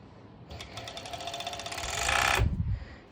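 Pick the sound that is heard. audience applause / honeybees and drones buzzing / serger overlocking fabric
serger overlocking fabric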